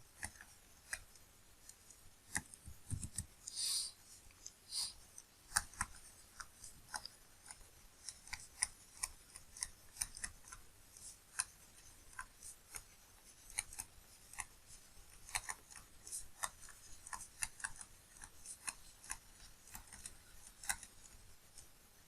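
Chalk or marker writing on a board during an engineering mechanics lecture: faint, irregular taps and scratchy strokes click on and off through a quiet room.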